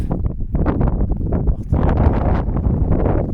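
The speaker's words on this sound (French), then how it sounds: "Il y a un petit vent là, un petit vent qui vient du nord là, un peu glacial." A cold north wind buffets the microphone outdoors on an Alpine-to-Pyrenees trek, loud gusty rumbles and rustling surging and easing in uneven waves, with no talk.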